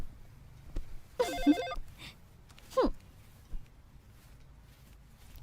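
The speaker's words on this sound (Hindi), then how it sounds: "स्मिता, फोन उठाओ ना।" A telephone rings in two short electronic bursts, separated by a pause, over a quiet room with faint scattered knocks.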